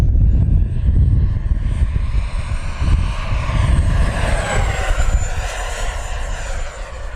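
An FMS Rafale 80mm electric ducted-fan RC model jet makes a loud, close fast pass, a steady rushing whine with a high thin tone that slowly shifts pitch, with no other sound over it.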